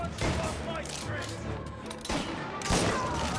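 Gunfire from the Mafia Definitive Edition video game, a loud burst of rapid shots early on followed by a second dense volley near the end, with game ambience between.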